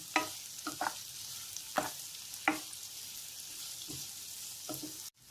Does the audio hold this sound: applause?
no